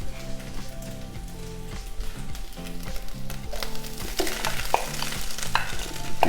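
Cooked jasmine rice for shrimp fried rice being stirred and tossed in a hot pan, a continuous crackling sizzle with scraping spatula strokes, close and fairly loud, no voices.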